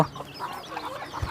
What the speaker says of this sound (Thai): ไก่อีกบ้านนี้เนาะ